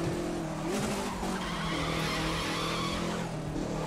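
Tires squeal as a rally car skids through a rallycross course in the racing game The Crew 2, a loud continuous screech over roaring engine noise, with no talk.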